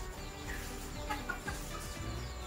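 A four-month-old Tân Châu bantam chicken with a pale buff color, a pointed comb and yellow legs clucks softly and repeatedly, close by, over a steady hum of background noise.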